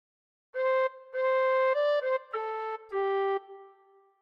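A tin whistle plays the opening phrase of the hymn Be Thou My Vision alone, with five clear sustained notes separated by brief breaths and soft tonguing, close and steady in volume.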